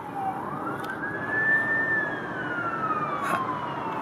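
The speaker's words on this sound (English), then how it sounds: "Okay, I hear sirens." A distant emergency siren wails in Toronto, rising and falling in pitch over steady background rumble.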